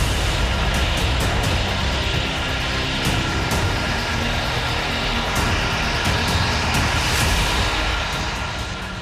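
Russian Tu-95MS nuclear bombers fly with Su-35 jets over the Norwegian Sea. The aircraft produce a dense, continuous roar that stays loud and steady throughout, with scattered faint crackles and no voices.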